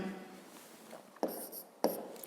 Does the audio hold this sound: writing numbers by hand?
yes